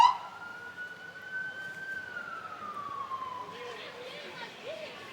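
Emergency responder vehicle siren from McKeesport Ambulance Rescue Service during the 55th annual Salute to Santa Parade in McKeesport, 2019: a steady, moderately distant wail sliding slowly up and down over crowd murmur.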